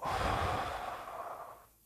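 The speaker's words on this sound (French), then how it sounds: "Une respiration." A single long, deep breath, a steady airy exhale that fades out at the end, close and soft, with no talking.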